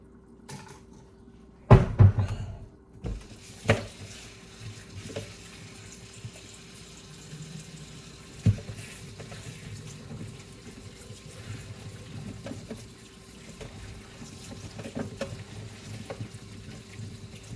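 Water runs steadily from a tap with a few sharp knocks and clatters early on, then continues as a low splashing wash.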